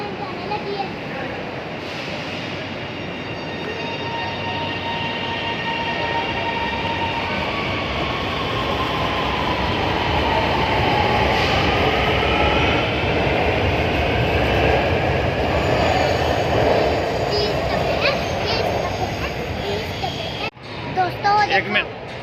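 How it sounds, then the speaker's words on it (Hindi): A Lahore Orange Line metro train departs, its rumbling wheels and rising electric whine building steadily into a loud, continuous roar nearby, with voices and crowd chatter mixed underneath. "देखे, ये देखो, अब ये ट्रेन जाने लगी है।"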